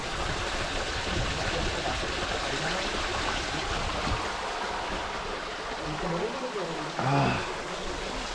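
A cold glacier-fed mountain stream in Himachal Pradesh rushes steadily nearby, a constant broad watery hiss with people talking over it.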